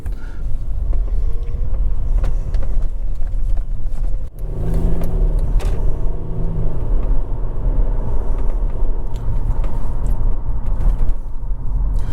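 A car drives along the road through Glossop, its engine and tyre rumble steady and close inside the cabin, with a brief thump partway and no speech.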